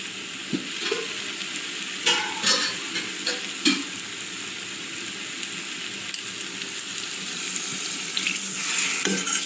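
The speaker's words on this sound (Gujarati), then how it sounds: "આમાં જરૂર પૂરતું થોડું પાણી એડ કરી દઈશું" A splash of water hits a hot pan of masala thickened with gram flour for paneer bhurji, followed by steady sizzling and bubbling with scattered stirring clinks.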